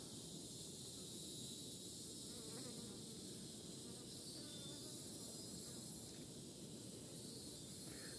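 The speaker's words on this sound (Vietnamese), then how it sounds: "Tổ ong, tìm được tổ ong trên cây bơ." Bees swarming around a nest in an avocado tree give a steady, dense outdoor buzz that holds at an even level throughout, with no talk over it.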